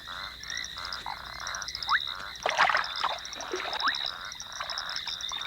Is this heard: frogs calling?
yes